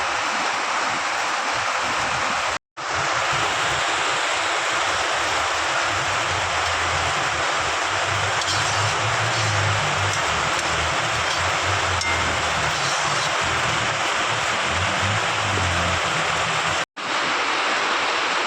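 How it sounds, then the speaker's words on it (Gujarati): Dense, steady roar of heavy rain pouring down, loud and unbroken apart from two brief cuts. "આવો વરસાદ પડે ને તો ફ્રેન્ડ્સ બીક લાગે ને એવો વરસાદ પડે છે"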